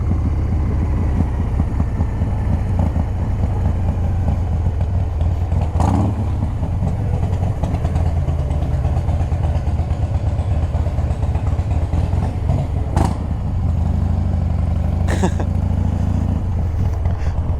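A Harley-Davidson Softail Twin Cam motorcycle rides through a building where people are gathered, its loud, steady engine rumble continuing throughout with a few sharp revs and clatters.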